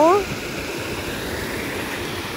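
A flowing stream current rushes steadily in the open during a spring outing in Japan, a broad continuous wash of water noise that stays even and fairly loud from start to finish.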